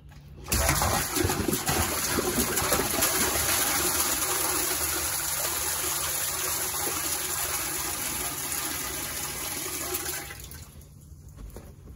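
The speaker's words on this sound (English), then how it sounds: "We're just gonna go ahead and add another 2 gallons of water." Water is poured steadily into a large vessel, two gallons added to a peach brandy mash, making a continuous loud gushing rush for about ten seconds before it stops, with no talk.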